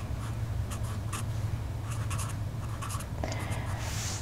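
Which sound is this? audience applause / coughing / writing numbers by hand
writing numbers by hand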